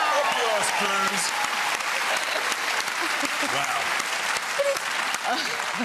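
A studio audience at a TV talk show claps in sustained, dense applause throughout, with a brief spoken exclamation over it.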